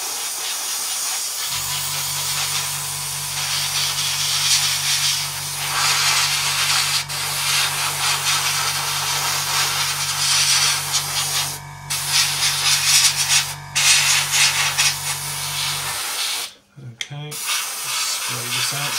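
Airbrush spraying paint onto an Eduard B-24 model kit, driven by an air compressor turned up in pressure: a steady, loud hiss running about fifteen seconds over a low compressor hum, broken by brief pauses near the end.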